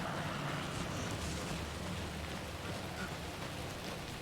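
Steady, dense rain hiss in the video game Alan Wake 2 fills the whole stretch at an even level, with a low rumbling undertone beneath it and no voices.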